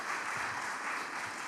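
Audience applause at a community meeting, a steady wash of clapping from a room full of people, moderately loud and continuous throughout, with no talking over it.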